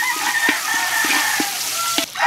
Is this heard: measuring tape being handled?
no